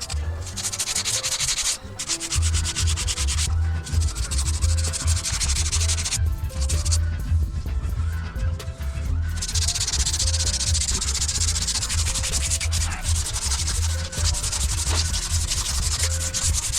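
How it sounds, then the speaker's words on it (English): Steady, loud scrubbing and rubbing on a truck's third axle, cleaning the ABS sensors and their housing, with continuous abrasive rasping that barely pauses for the full stretch. "I also do try to clean, well, it's on the third axle, the ABS sensors and the housing for them"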